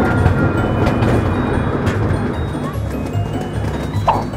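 Continuous rumble of a museum ride train in motion, loud and close, with steady rolling noise and faint clattering throughout.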